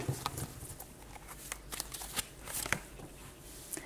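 Starshield Tarot cards are shuffled by hand for a reading, giving soft, quick riffling and slapping bursts, close and fairly quiet, repeated over a few seconds without speech.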